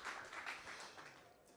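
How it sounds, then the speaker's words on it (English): Brief, faint applause from a conference audience, a soft wash of clapping that fades out within a second or two, with no one speaking over it. "I'll let people applaud for you"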